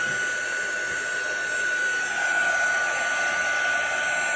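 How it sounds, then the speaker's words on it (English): A paper-crafting embossing heat gun blows a steady, unbroken airy whir throughout, with no other sound over it. "We're going to heat up our embossing gun."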